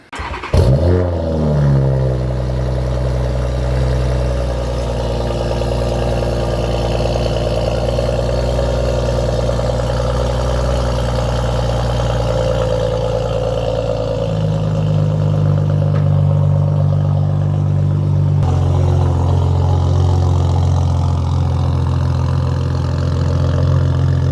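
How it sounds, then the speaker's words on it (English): A Toyota Supra fires up from a cold start with a sharp initial rev, then settles into a steady, loud idle with a low, even engine drone that holds close and constant, with a slight pitch shift near the end. "so let's hear this cold start"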